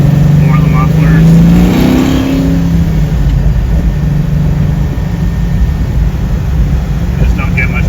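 A classic Chevelle with Borla mufflers revs loudly, its engine rising and falling in a sharp climb early on, then settling into a steady growl while someone talks over it.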